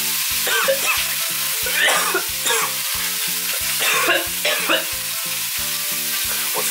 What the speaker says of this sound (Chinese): 我们现在丢一下我们的战斧牛排